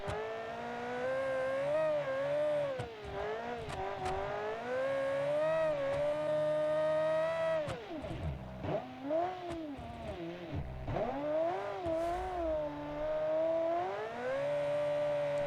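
A rally car engine in a 1985 classic rally race, held in second gear at part throttle while drifting, sounds like a strong continuous engine whine that rises and falls, with brief dips as the throttle lifts, heard from inside the car.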